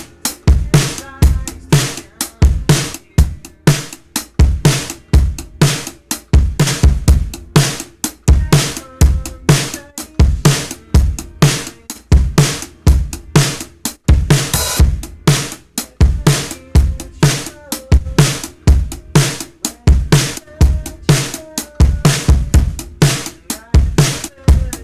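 Drum-heavy music loop run through Logic Pro's Phat FX with the compressor placed ahead of the saturation, giving a dense, pumping, steady beat of punchy hits throughout, loud with no talking.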